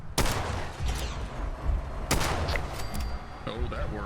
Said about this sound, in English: Ooh, Snub-Nose 44. Does a lot more damage than the pipe pistol.